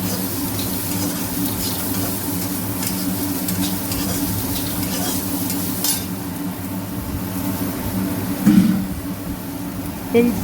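Onion and garlic sautéing in oil, a continuous close sizzle with stirring scrapes and a few louder clatters of a utensil against the pan toward the end.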